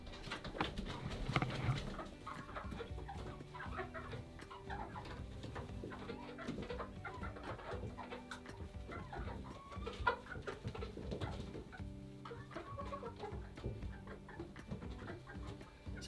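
A brooder of three-week-old chicks, a mix of barred rocks, gold laced wyandottes, Isa browns and black australorps, keeps up a continuous busy chorus of soft clucks and peeps, close and steady throughout.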